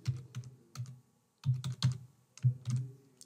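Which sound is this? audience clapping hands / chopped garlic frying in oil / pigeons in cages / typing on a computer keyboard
typing on a computer keyboard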